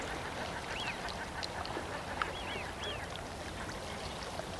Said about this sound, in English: A ferruginous duck.